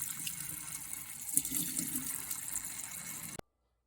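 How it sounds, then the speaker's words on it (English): Tap water runs steadily into a kitchen sink while quinoa is rinsed, a close, continuous hissing splash that stops abruptly near the end. "first we got to rinse the quinoa off"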